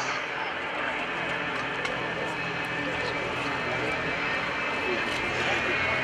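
A J79 jet engine from an F4 Phantom, mounted on a school bus at an airshow, roars as a steady, broad and loud rush that fills the whole clip, with crowd talk faintly mixed in.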